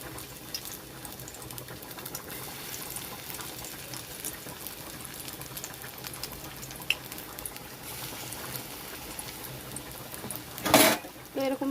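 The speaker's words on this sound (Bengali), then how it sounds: "তো এখন এগুলো ভাজার জন্য এরকম ছোট ছোট করে দিয়ে দিচ্ছি তেলের মধ্যে।" Small fritters of greens fry in hot oil in a pan, a soft continuous bubbling sizzle with a burst of louder crackling near the end, close and steady, with a voice talking over it.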